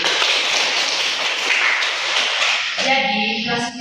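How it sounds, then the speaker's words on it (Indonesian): A classroom of students clapping together in a dense, continuous patter that holds steady for several seconds, with a voice rising over the end. "Oke, kita berikan tepuk dulu."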